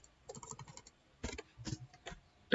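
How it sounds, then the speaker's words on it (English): Quiet clacking of computer keys comes in short irregular bursts of typing, with pauses between clusters of keystrokes, close and soft, without talking. "let me just type it here so that it would be more clear to you"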